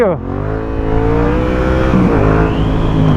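A Yamaha XSR 700 motorcycle engine revs loudly and steadily, its pitch climbing and holding with a rich harmonic growl that fills the whole stretch.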